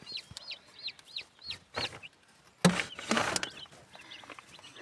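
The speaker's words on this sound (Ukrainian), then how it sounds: "Що ж то там вони відзиваються, га? Отакі ті курчатка." Chicks peep in quick, high repeated chirps close by, with a brief rustle and a louder burst of noise midway.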